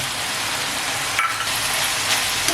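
Onion and tomato sautéing in a pan on a tawa for a shellfish (mussel) masala fry, a steady broadband sizzle with faint clinks of utensils, close and continuous with no talk.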